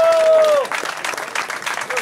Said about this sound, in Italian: anche qui un applauso a Gonario